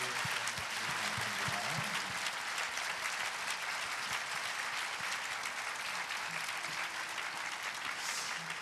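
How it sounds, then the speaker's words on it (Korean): Steady applause from a large congregation at a church worship service fills the whole stretch, dense and even, with faint low voices underneath. "우리 박수 한번 해주시죠."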